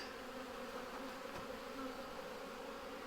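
Saskatraz honey bees buzzing inside a hive in late November, a steady low hum of many wings, close and continuous with no voices.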